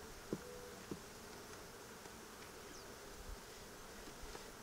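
Honey bees at a hive on a property, a faint steady buzzing hum with no speech over it.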